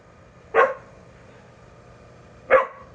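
A dog gives two single sharp barks about two seconds apart, close and clear against a quiet low background hum.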